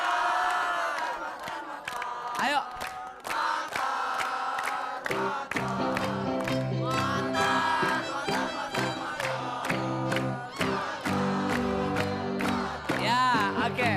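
A studio audience at a Ramadan television variety show shouts and cheers in loud repeated bursts, with a host's voice and background music mixed in.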